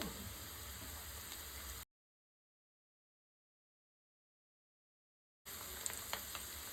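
Sliced onions frying in oil with curry leaves and spices, a steady soft sizzle with faint stirring clicks, cut by a few seconds of total silence in the middle.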